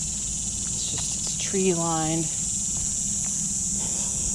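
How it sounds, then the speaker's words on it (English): Cicadas buzz in a steady high-pitched drone along a tree-lined corridor on the University of Texas Rio Grande Valley campus in Edinburg. Someone speaks briefly over the constant insect chorus. "You can hear the cicadas."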